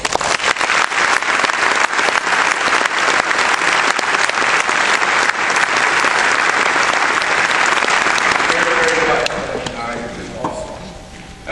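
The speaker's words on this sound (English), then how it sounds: "And I think they deserve a big round of applause." Loud, sustained applause from an audience at a tribute event honoring Delaney High students, dense clapping holding steady before tapering off toward the end as a voice begins speaking.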